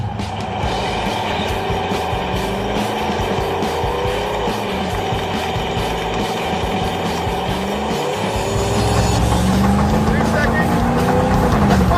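Beater car doing a tire burnout, engine revving hard and steadily with a continuous roar and squealing tires, loud and close, building slightly louder toward the end.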